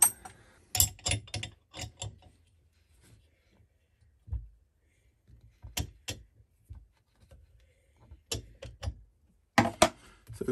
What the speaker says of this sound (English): we can just gently spin the crankshaft